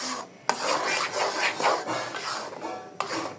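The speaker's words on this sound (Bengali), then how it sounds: "এখন আমি ভালো করে ভেজে নিব" Sugar-blended chickpea halwa mixture being stirred and fried in a pan, rough scraping and rubbing strokes of a utensil against the pan with occasional sharp clinks, close and fairly loud.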